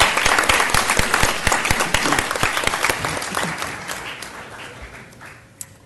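Applause rings out for award winners at a school board meeting, a dense burst of many hands clapping that gradually thins and fades toward the end.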